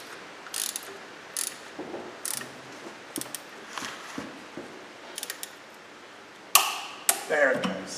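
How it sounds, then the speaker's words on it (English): A torque wrench tightens a bolt to 80 newton meters on a Volvo Amazon B18/B20 engine during a camshaft change. It gives short, sharp ratcheting clicks in irregular bursts, close by, ending in a louder clatter. "we're going to torque this to 80 Newton meters"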